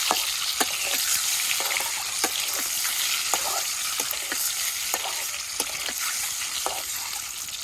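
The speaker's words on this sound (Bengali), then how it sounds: "ডিম ভাজা হয়ে গেছে, এখন নামে নেই।" Spice-coated eggs frying in hot oil for egg biryani, a loud continuous sizzle broken by regular crackling pops and stirring scrapes, close up with no talk.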